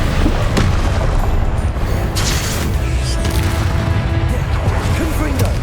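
Confringo blasting-spell explosions in the Hogwarts Legacy video game make loud, deep booms over a constant roar of combat noise, with voices calling out during the fight.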